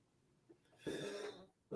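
A single harsh cough close by from a person with a cold, followed by the start of another, with quiet breathing before it.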